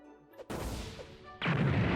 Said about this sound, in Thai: ท่าสุดท้ายจะเป็น ท่าระเบิดนะครับเหมือนระเบิดพื้นรอบตัวนะครับ